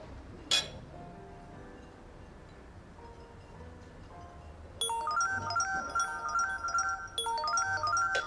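A phone ringtone starts partway through, a bright repeating electronic melody, fairly loud and close, following a single clink and quiet background.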